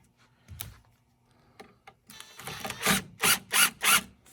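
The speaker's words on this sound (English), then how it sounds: "I'm going to go ahead and drill the next one." A power drill drives a screw into the wood of a DIY Adirondack chair kit: after a few soft knocks, the motor whirs in several short, loud, close bursts.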